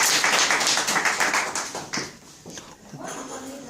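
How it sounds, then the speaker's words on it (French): Applause breaks out at a wrap party in Dijon, a dense patter of hand claps that gradually thins and fades, with voices chattering and calling out over the tail. "On peut l'applaudir."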